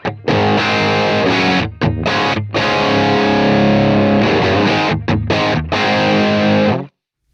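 Distorted electric guitar through a 4x12 cabinet with Celestion Greenback 25-watt speakers, loud thick sustained chords with a few brief choppy gaps, then an abrupt stop.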